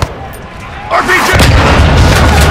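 RPG rocket explosion in the Call of Duty Modern Warfare 2 video game: a sudden loud blast followed by rumbling, roaring noise that fills the rest of the moment, close and heavy after a brief quieter lead-in.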